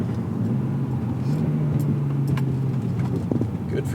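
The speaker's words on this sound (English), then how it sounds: "Those revs are crazy. I'm honestly scared to take it to redline" A BMW E46 M3 engine drones steadily in the cabin while driving, holding a low hum with a mild swell in revs midway and some road and cabin noise around it.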